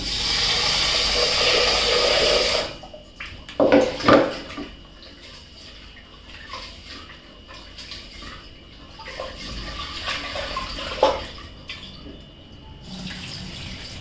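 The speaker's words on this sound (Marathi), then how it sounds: "आता हे तांदूळ स्वच्छ धुवून घ्यायचं आहे दोन पाण्याने" Rice is washed in a pot, opening with running tap water gushing loudly for a few seconds, then quieter sloshing and swishing of grains in water with occasional clinks of the pot.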